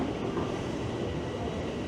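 A Toronto subway train arrives at a station on Yonge Street, heard as a steady broad roar and rumble of rolling cars that stays constant, moderately loud and continuous, with no talking.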